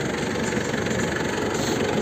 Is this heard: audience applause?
no